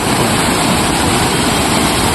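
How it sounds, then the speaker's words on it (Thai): Waterfall in Mae Moei National Park, Thailand, a steady broadband roar of falling water that fills the whole stretch at a loud, even level with no other sounds. "นี่จะเป็นน้ำตกนะครับ"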